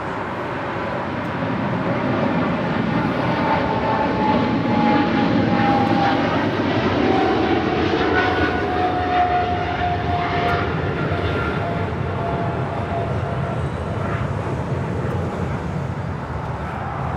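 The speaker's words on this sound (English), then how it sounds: "Singapore Airlines Flight 11 taking off to Tokyo Narita on a 777-300 ER." A Singapore Airlines Boeing 777-300ER taking off from LAX, a loud sustained jet roar that swells and rumbles with shifting engine tones across the whole stretch, close and dominant, with no talking over it.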